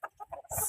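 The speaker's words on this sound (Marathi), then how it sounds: "मोठच्या मोठं कोंबडा येतं" A rooster calls briefly on a farm: a short, close, fairly loud burst of clucking crow lasting under a second, with no talk.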